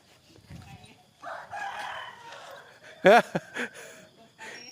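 Against a quiet, faintly noisy background, a chicken lets out a short, sharp squawk and a couple of quick clucks.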